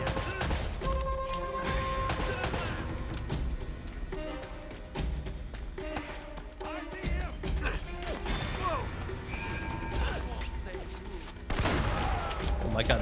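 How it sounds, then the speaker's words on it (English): Shotgun fire in the video game Uncharted: Drake's Fortune, repeated loud booming blasts mixed with crashes and clatter across a busy firefight, with a voice talking over parts of it. "Oh my god, the shotgun in this game."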